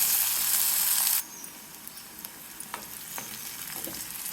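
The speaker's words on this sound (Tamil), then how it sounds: "நல்ல கலர் மாறுற வரைக்கும் நல்லா வதக்கணும்" Onions and garlic sautéing in a pan for brinjal kara kuzhambu: a loud, hissing sizzle that suddenly drops to a softer steady fry after about a second, with scattered light clinks of stirring.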